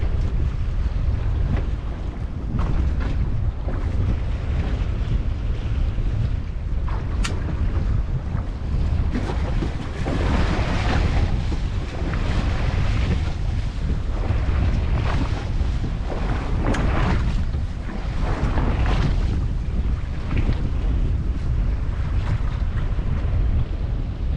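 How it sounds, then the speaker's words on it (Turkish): Strong wind roaring and buffeting the microphone over open sea during slow-jig fishing from a boat, with waves and boat noise in a constant rumble throughout. "Bir de rüzgar çıktı, akıntı çıktı."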